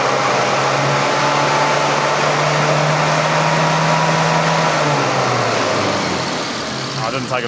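A classic Mini engine revs during carburettor tuning, a loud, close, sustained drone held at steady high revs before dropping back toward idle, while someone talks over it.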